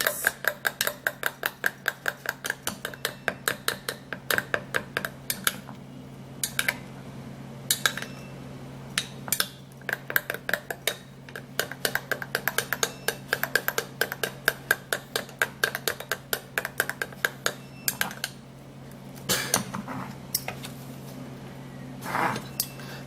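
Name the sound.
mixing egg white remedy with a spoon in a bowl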